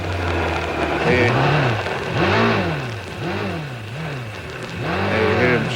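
An Indycar's engine in a racing video game gives a loud, continuous buzzing drone that rises and falls in repeated swells, with no clear cut to silence.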